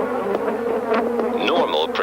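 Swarm of angry African bees attacks a black bag with a microphone held inside, making a dense, close, continuous buzzing with shifting whines of individual insects and no talk.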